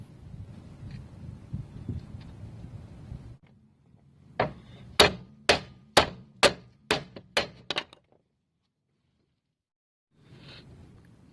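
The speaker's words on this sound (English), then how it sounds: "give the knuckle a few good hits right here, and eventually the lower ball joint will separate" Eight sharp, loud metallic hammer blows strike the steering knuckle of a 1996–2002 Saturn S-series to separate a worn lower ball joint, coming in a steady rhythm, close and alone, after low workshop rumble.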